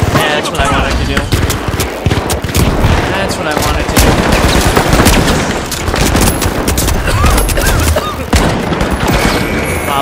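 A shotgun in an arena video game fires over and over in a dense, loud barrage of booming blasts, mixed with game effects and chatter, for the whole stretch.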